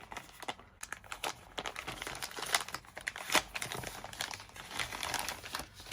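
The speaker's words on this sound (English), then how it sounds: "Let me unwrap it." A soft carry pouch for a DJI Osmo Pocket 4 is pulled out of plastic packaging, with continuous close crinkling and crumpling of the plastic and a few sharper tearing crackles, with no talking.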